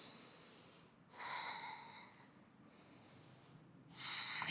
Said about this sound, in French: On prend 2 longues respirations.